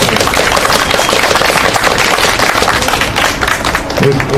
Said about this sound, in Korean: 다시 한번 큰 박수만 부탁드립니다